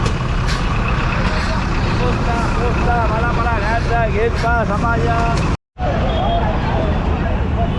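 A battered, dented city bus rumbles loudly on a busy Kolkata street, its diesel engine and a hiss of air brakes heard up close amid crowd chatter and nearby voices, broken by a short dropout.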